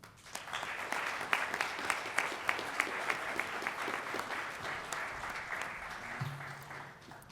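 An audience at a talk on geothermal design for high-rise buildings applauds, a steady, moderately distant wash of clapping that continues evenly for several seconds and then tapers off.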